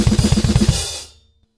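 A fast drum-kit blast beat played with alternating feet on the bass drums, rapid even hits with cymbal wash, close and loud for about a second before cutting off and ringing out.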